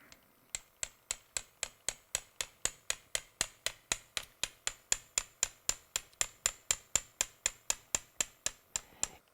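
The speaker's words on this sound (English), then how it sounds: "we're going to go ahead and mallet this in" A mallet taps a surgical punch into bone during a biceps tenodesis, about thirty sharp, evenly spaced metallic knocks in a steady quick rhythm, close and crisp with no speech.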